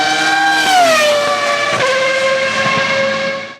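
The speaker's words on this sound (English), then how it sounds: "this is how a Formula 1 engine sounds" A Formula 1 car engine from the Virtua Racing arcade game sounds as a loud, steady synthesized drone that drops slightly in pitch, then holds a buzzy, thin tone.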